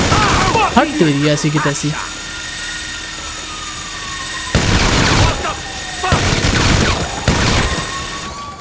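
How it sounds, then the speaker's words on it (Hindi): Gunfire in GTA 5 gameplay, with two or three loud bursts of shots cracking out in the latter half over a steady engine-like drone, after a man exclaims briefly at the start. "गोली मार रहा है कोई, दिख नहीं रहा।"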